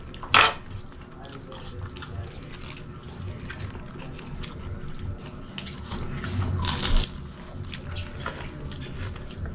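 Close-up eating of beef bone marrow and crispy chicharon bulaklak, with a sharp cutlery clink at the start, then steady crunching and chewing, and another bright clatter of utensil on dish partway through.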